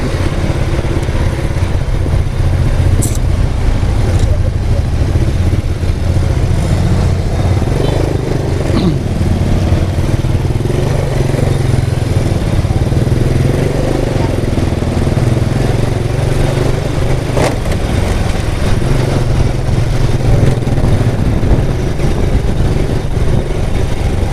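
Steady engine rumble of traffic throughout, loud and continuous, with vehicles idling and moving nearby.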